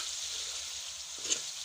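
Mutton pieces frying with spices in a pan for mutton palak gosht, giving a steady, close sizzle that runs alone without talk.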